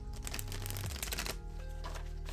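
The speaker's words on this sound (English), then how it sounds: "So as I shuffle these cards" Oracle cards shuffled during a mind, body and spirit reading, a steady run of dense papery riffling and flutters, close and fairly loud, with a low hum beneath.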